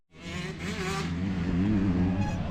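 Motocross bikes running on a dirt track at an MX Romagné event, a loud continuous engine roar with rising and falling revs, close and dense, with no talking over it.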